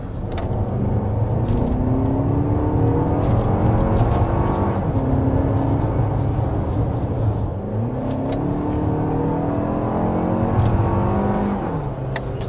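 A 2024 Lexus TX's 2.4-liter turbocharged four-cylinder hybrid engine, with front electric motor and rear e-axle, accelerates hard, its loud, steady drone climbing in pitch through two distinct rising surges, with no talking.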